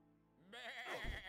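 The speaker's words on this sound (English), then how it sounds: "That sheep threw a tantrum at us." An angry sheep in Across the Obelisk lets out one loud, wavering bleat that starts abruptly and ends with a low thump.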